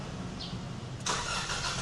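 A car with push-button start cranks briefly and its engine catches, settling into a low idle, heard alone at close range and fairly quiet.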